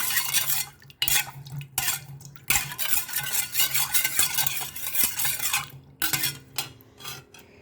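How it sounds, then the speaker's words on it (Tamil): A spoon stirs vegetable pickle mixed with sugar and salt in a bowl. Repeated close scraping and clinking strokes come in uneven bursts separated by brief pauses, with no talking. "இப்போ அதை நல்லா கலக்கி விடுறேன்"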